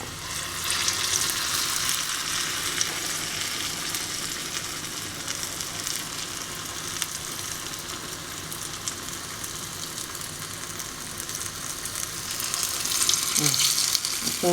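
Urad dal vada batter frying in hot oil for South Indian ulundu vadai, a steady loud sizzle throughout that swells near the end as more batter drops in, with no talking.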